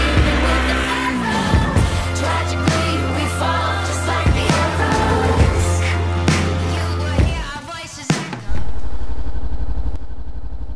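A motorcycle carrying a rider and passenger revs and idles close by, its engine note rising and falling with gear changes. After a brief lull it settles into a steady idle drone.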